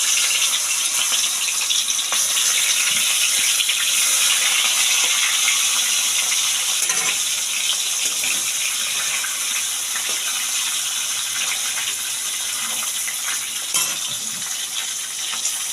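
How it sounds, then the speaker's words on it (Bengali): Pieces of fish slipped one by one into hot oil in a pan for Bengali doi rui, giving a steady, fairly loud hiss and sizzle with faint clinks throughout. "তেলটা গরম হয়ে গেছে এবার আমি মাছ ছেড়ে দিচ্ছি এক করে"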